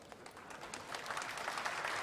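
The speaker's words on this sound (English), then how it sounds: "Oh, they're clapping something." Distant crowd applause picked up during a space mission broadcast, a steady wash of clapping that gradually swells slightly louder.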